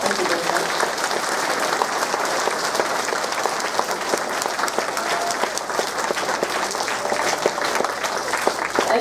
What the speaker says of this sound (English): Let's give First Sergeant to Hart another round of applause